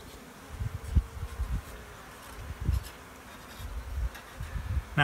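Honeybees buzz faintly around an open hive and feeder during an inspection on Cape Cod, a soft, uneven drone that swells in brief pulses as insects fly close.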